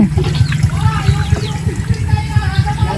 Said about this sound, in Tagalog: magsha-shower na si Tony sa gripo